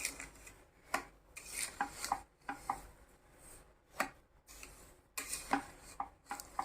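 Sugar mixed into grated raw green mango by hand, a series of soft irregular scrapes and taps of a spoon against a bowl, quiet and close, with pauses between strokes and no speech.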